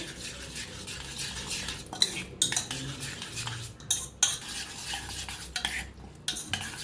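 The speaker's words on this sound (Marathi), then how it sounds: "टाकूया आपण हिरवी मिरची टमाटो बारीक असं कापून घेतलेलं कोथिंबीर सगळं छान असं मिक्स करून घेऊया" A spoon stirs and scrapes through a thick batter of ground rice and urad dal with chopped green chilli, tomato and coriander in a bowl. Soft, repeated wet mixing strokes and occasional metal clinks sound close by, with no talking.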